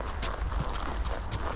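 A horse walks on a ride under a helmet camera, its hooves striking in a brief, close, dull rhythm against a breezy, rustling background.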